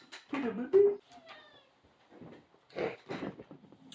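A cat meows a few times in short, close cries, mixed in with people talking during a casual podcast recording.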